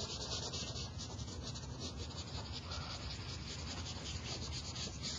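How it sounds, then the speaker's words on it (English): Colored pencil shading a base color onto paper around a drawn eye socket, a steady, close, dry scratchy rubbing that continues without pause and with no talking. "So I color my base color around my eye."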